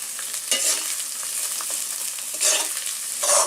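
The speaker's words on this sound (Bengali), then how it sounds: "মশলাগুলো আমরা ভালো করে কষে নেব" Spices sizzle and fry in a pan with turmeric as they are stirred, giving a steady hiss with a few louder scraping swells, close up and with no talking.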